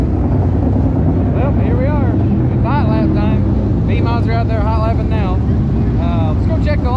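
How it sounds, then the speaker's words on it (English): B-Mod race cars hot lap on a dirt race track, a steady roar of engines with rising and falling pitch sweeps as cars pass, loud and continuous throughout. "B-Mods are out there hot lapping now."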